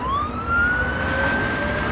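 An ambulance siren wails on a steady rising tone, sustained and fairly loud over low road rumble, with no voices.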